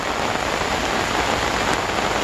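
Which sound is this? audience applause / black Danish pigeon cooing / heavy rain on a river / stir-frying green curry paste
heavy rain on a river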